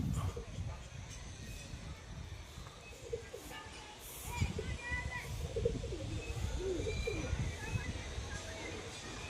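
Pigeons coo softly in short throaty bursts nearby, under steady outdoor noise while a person talks.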